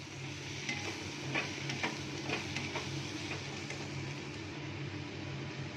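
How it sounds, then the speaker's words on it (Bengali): Spice masala for prawn curry sautés in a pan, giving a steady close sizzle with repeated soft scraping strokes from stirring. "মশলাটা একটু কষানো হবে।"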